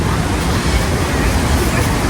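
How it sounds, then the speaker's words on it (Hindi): Water pours continuously into the 9/11 memorial pool fountain in New York, a loud, steady rushing wash mixed with crowd murmur and city noise. "यहाँ पानी जारी है"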